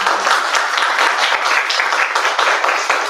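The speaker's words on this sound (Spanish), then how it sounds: "Un fuerte aplauso, por favor, para" Close, loud audience applause closes a scientific talk event, with distinct individual claps standing out within a dense, steady ovation lasting a few seconds.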